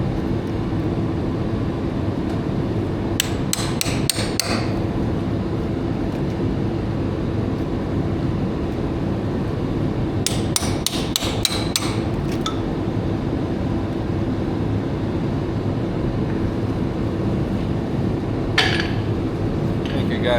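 A ball peen hammer strikes metal on a vehicle's rear axle in three bursts of quick, sharp ringing blows over a steady low hum, with a shorter single burst near the end.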